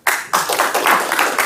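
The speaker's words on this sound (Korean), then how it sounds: "박수 한번 주시죠" An audience at a construction safety seminar applauding, a dense close burst of clapping that starts abruptly and keeps going with slightly uneven pulses.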